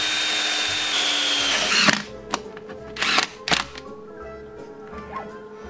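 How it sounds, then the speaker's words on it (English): A power drill bores holes in a wood block for a CNC project: a loud steady whine for about two seconds, then short drill bursts and knocks with quieter gaps between them. "now I'm going to drill 4 holes in the corner so I can just screw this right into my wasteboard"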